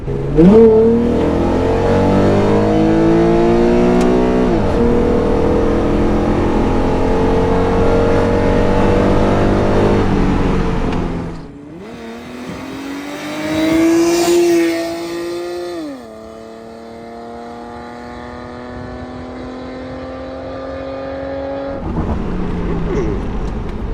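Honda NSX sports car engine revving loudly nearby, rising and falling in pitch through several throttle blips, then dropping to a lower idle drone before picking up again.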